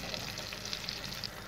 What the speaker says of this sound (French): Donc les oignons, on va les retourner encore.